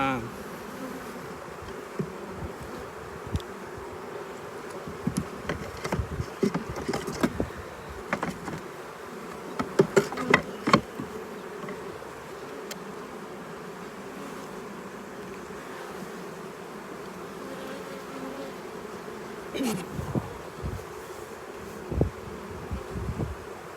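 Honey bees buzzing around a backyard beehive during a spring hive inspection, a constant droning hum with scattered louder passes as individual bees fly close, mostly alone with only faint background sound.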